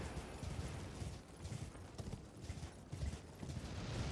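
Horse galloping in Elden Ring, a rapid, steady drumming of hooves at moderate loudness over a dense wash of game noise, with no talk.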